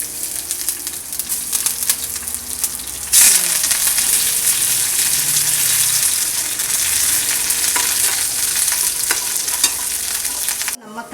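Shallots, mustard seeds and urad dal sizzling in hot oil for a tempering, a loud continuous hiss and crackle that jumps up suddenly as ingredients hit the pan and runs on steadily with stirring.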